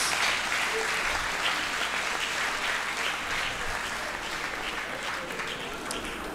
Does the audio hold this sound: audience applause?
yes